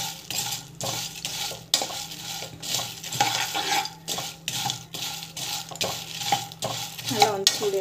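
Ingredients for a homemade weight-loss powder being stirred as they heat in a pan, with a spoon scraping in close, irregular bursts of rhythmic stirring and light clinks against the metal.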